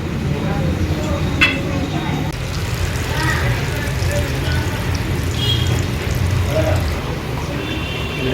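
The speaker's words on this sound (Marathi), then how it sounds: "वडे फ्राय होत आहेत" Vadas deep-frying in oil in a Konkani restaurant kitchen, a steady close bubbling sizzle running throughout with occasional clinks, while people talk over it.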